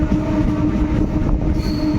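A train runs on the rails near Kazipara, producing a loud, continuous low rumble and clatter with a faint high wheel squeal near the end.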